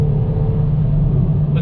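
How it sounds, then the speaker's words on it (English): A 2020 Kia Forte GT with a dual-clutch transmission pulls away in first gear on a damp road, its engine rumbling low and steady under brief tire spin and wheel hop, close and fairly loud throughout. "Pulling out, first gear. Little bit of tire spin, little bit of wheel hop."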